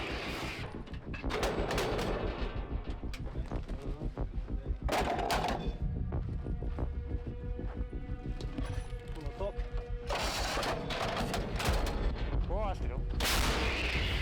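Artillery and gunfire near Vuhledar in the Donetsk Region: sharp, loud blasts and cracks at irregular intervals, with heavy booming bursts over a constant rumbling background.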